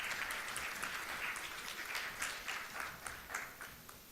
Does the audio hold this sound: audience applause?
yes